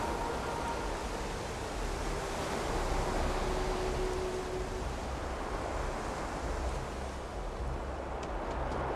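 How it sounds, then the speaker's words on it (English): Ocean waves washing on a shore in a modded Starfield game location, a soft continuous surf wash with gentle swells, low and steady without any talking. "You can see the waves, you can hear the sound as well."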